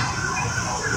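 A fire engine siren wails at a market fire in Blitar, a brief, steady tone heard at moderate distance against a busy outdoor background.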